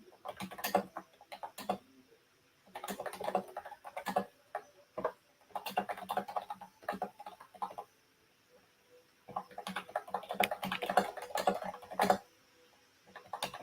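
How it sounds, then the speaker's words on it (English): Bursts of rapid clicking keystrokes on a computer keyboard, several separate runs of typing with quiet pauses between, close and fairly crisp. "And I'm just typing it in again so you guys can see it on screen."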